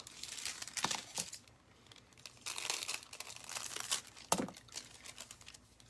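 Leftover scraps of thin craft foil are crinkled and crumpled by hand in quiet, irregular bursts, with a few sharper rustles and crackles.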